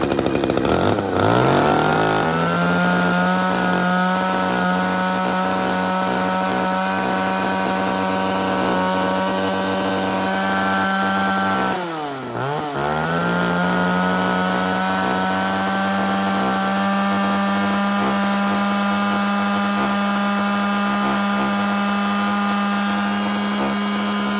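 A Japanese chainsaw, one of the O-series saws for home and logging use, revs and saws steadily through wood, its loud high engine whine holding steady near the mic with a brief dip midway before picking back up, no voices.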